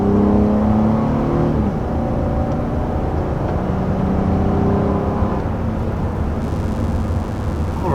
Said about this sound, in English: first taking off here in this 2020 Honda Ridgeline. As you can see, getting up to speed is pretty easy.